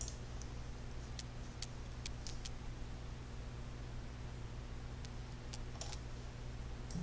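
A few faint, sparse key clicks as a security code is typed on a computer keyboard, set against a steady low hum in a quiet room.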